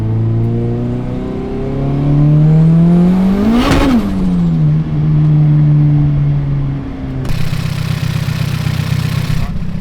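Modified Honda Civic engine revving hard through the gears, a loud rising drone that climbs to a peak, drops at a shift and pulls up again in the next gear, with a harsh broadband burst near the end.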